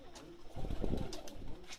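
A pigeon coos close by in a short, low, throaty rolling call that swells in the middle, with faint chirps above it.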